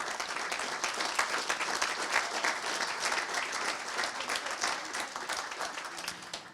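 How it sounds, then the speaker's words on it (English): A seated audience at a weekend gathering gives itself a round of applause, dense steady clapping from many hands filling the room for the whole stretch without letting up. "ask you to kind of give yourselves a round of applause to congratulate yourselves"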